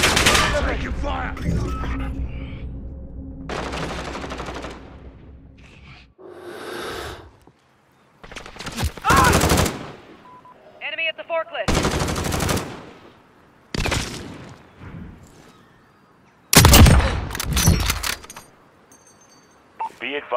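Gunfire in Call of Duty on PS5, loud bursts of automatic fire and shots in separated volleys with gaps between, alongside radio-style voices and other game effects.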